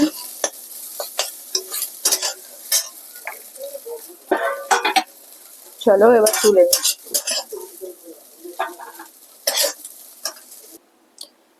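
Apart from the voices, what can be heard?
frying food in a kadai, stirring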